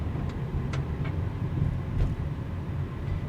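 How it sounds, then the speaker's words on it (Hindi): A 2023 Hyundai Verna turbo with DCT gearbox, driven on an expressway, pulls with a steady low engine hum and road rumble as the throttle is tapped, smooth and continuous with no talk. "listen to the engine"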